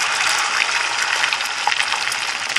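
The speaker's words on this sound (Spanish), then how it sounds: "Ya que está bien caliente nuestro aceite, vamos a agregar nuestro huevito." Beaten egg hits very hot oil in a pan for an omelette-style dish with nopales and potatoes, giving a loud, steady, close crackling sizzle throughout.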